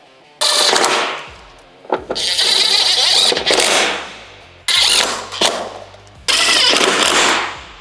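A power driver runs screws back into the fairing speaker pods of a Harley-Davidson Street Glide, giving four loud buzzing bursts of a second or more each, close up with no speech.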